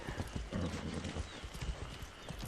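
Horse galloping in Far Cry 6, with rapid, close hoofbeats pounding in an uneven rhythm over a low rumbling bed.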